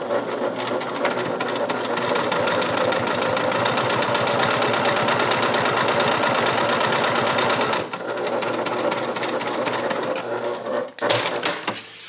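A sewing machine runs steadily, stitching a bag seam at a quarter-inch allowance, its rapid needle rhythm loud and close for most of the stretch, with a brief pause and a few short bursts near the end.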